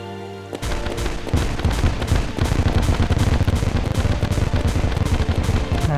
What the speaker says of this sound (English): And then we have the Rainbow Party Cannon.